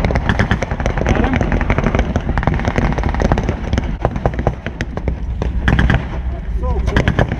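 WWII D-Day reenactment battle with rapid, loud cracks of blank gunfire and bursts of automatic fire, sharp reports packed close together over a constant rumbling background, with voices talking through it.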